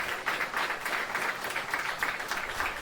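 Faint, steady applause from a group, a soft continuous patter of hands clapping for a few seconds with no talking.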